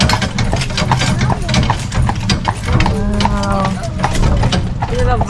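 Horse hooves clip-clop along a path as a horse-drawn carriage tours Killarney National Park in Ireland, steady close rhythmic steps under ongoing conversation from passengers.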